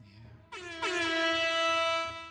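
Air horn sound effect played during a tabletop game session, a loud sustained blaring tone that starts abruptly, swells to full strength and holds for nearly two seconds before cutting off.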